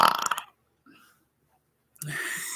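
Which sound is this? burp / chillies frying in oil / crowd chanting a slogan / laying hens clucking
burp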